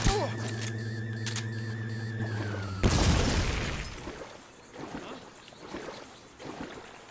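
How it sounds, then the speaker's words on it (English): A sudden loud blast from a Metal Gear Solid 3 stealth game cuts off a tonal in-game hum, followed by a crackling, splashing aftermath that fades over several seconds. "I walked away from that explosion."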